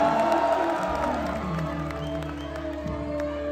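Concert crowd cheering and applauding for the keyboardist at a show, a steady roar of voices and claps under sustained band tones.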